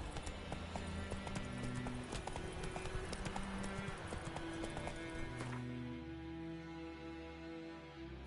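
Horse hooves clip-clopping in a steady rhythmic trot while riding in The Witcher 3, close and clear, with game music and ambience underneath.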